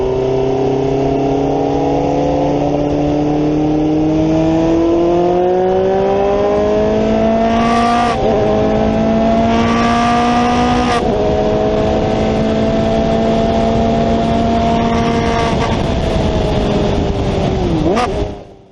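Formula Atlantic open-wheel race car on slick tires running a wet, rainy track at Portland, its loud engine revving steadily up and down through gear changes close by, ending with a sharp rise before cutting off.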